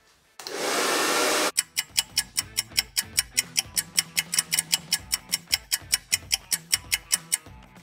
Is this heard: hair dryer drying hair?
yes